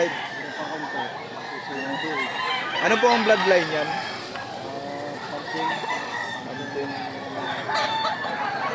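Roosters crow and cluck at a chicken market in Lipa, Batangas, with people bargaining over prices throughout, the birds' calls rising through the busy chatter, near and fairly loud.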